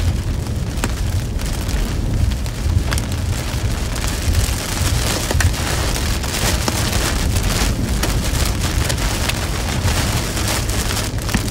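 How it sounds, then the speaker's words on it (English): Heavy storm rain lashes down in whipping curtains during a severe weather outbreak, a loud, dense, continuous roar of drops pounding surfaces with no letup. "A lot of whipping rain curtains up here."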